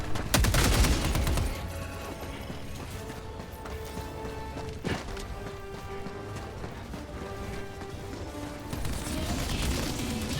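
A heavy burst of automatic gunfire from the video game Helldivers 2 cracks out loudly at the start, then quieter shots and impacts continue under a steady tonal background hum.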